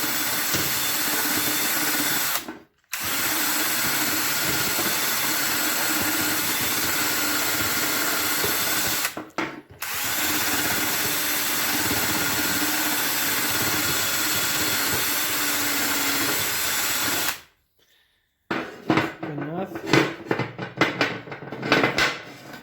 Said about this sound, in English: So I like to get off some of this crappy paint. Just wire wheel that off.